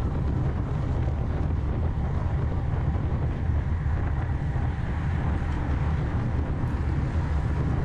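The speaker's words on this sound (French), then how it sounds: "lorsqu'il y a du vent comme ça, lorsque c'est plat, il y a du vent de côté" Wind noise buffeting a bike-mounted action camera during an amateur road race on a flat road in a crosswind: a loud, constant low roar with no breaks.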